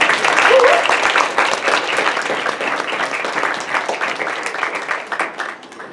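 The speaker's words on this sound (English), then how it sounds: "Let's just give these candidates just a big round of applause." A crowd applauds candidates at a 2014 ASMSU student presidential primary debate, loud sustained clapping from many hands that thins slightly toward the end, with some voices mixed in.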